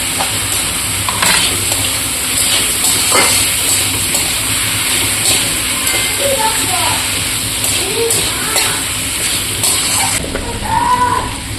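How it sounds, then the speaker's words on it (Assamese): Potatoes and tomatoes with salt and turmeric fry in a pan, a steady loud sizzle and hiss running throughout with occasional stirring scrapes, while someone talks over it. "এতিয়া এইখিনি অকণমান ভাজি ল'ম, মানে আলুখিনি অকণমান ৰং উঠালৈকে ভাজি ল'ম"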